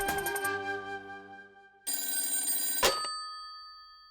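A landline telephone rings in a home, its bell tone sounding in a couple of bursts with a brief break, loud and close, with no one talking over it.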